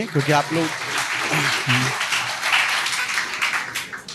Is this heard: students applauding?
yes